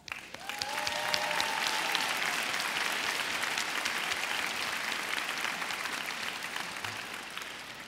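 A commencement crowd at Peirce College breaks into a full round of applause for supporting organizations, rising quickly and holding steady and loud throughout.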